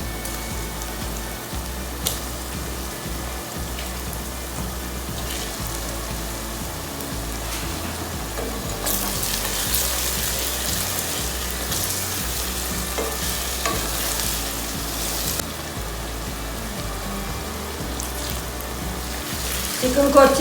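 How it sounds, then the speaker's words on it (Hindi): Chicken pieces fry with browned onions in a pan for a bitter gourd chicken curry, a steady close sizzle with occasional stirring clatter. "चिकन को अच्छी तरह भून लेते हैं जब तक ये स्मेल ख़त्म ना हो जाए।"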